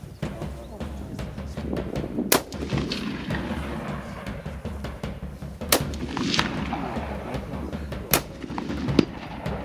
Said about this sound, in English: Okay. Shot.